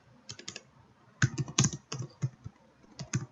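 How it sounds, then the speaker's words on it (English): Keystrokes on a computer keyboard, a short burst of about six quick taps followed by a pause and then a busier run of clicks, close and fairly crisp, with no talking. "Take the type tool, press T, click and type KRISH"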